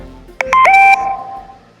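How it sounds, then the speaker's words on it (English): A phone's text message alert plays once up close: a quick burst of short electronic beeps followed by a sustained two-tone chime that fades out. "My text ringtone is really boring."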